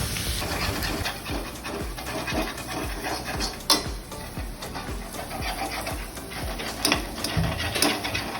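Onions being stirred in a cooking pot until golden brown for a meat curry: a fast, steady rhythm of a spoon scraping and knocking against the pot, close by and continuous, with no voices.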